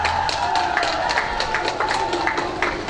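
A crowd claps at a candidate nomination event for a Malaysian general election in Tenom, with dense, steady applause that carries on for several seconds, mixed with scattered murmuring and a voice.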